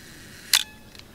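A film camera shutter firing with the lens stopped down to f8 gives one crisp mechanical snap at close range, followed by a fainter click a moment later in a quiet room.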